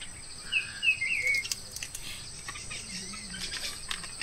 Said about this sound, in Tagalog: Yung mga ibon gising na rin.